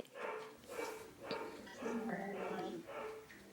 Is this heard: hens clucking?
no